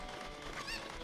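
Horses in a video game horse race make a brief, busy mix of hoofbeats and whinny-like game sounds, fairly constant in level, with a higher squeal near the end.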